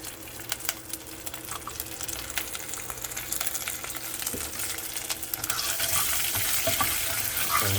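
Sliced garlic cloves fry in hot tempering oil, a crackling sizzle with scattered pops that thickens into a denser, louder hiss toward the end.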